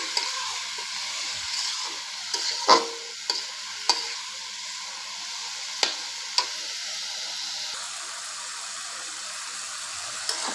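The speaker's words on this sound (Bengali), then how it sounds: "মশলাগুলো আলুটার সাথে একটু নেড়ে চেড়ে নিচ্ছি" Potatoes stirred with ground spices in a frying pan, with a soft, low sizzle and a handful of distinct spatula scrapes and taps at irregular intervals, nearby and with no one speaking.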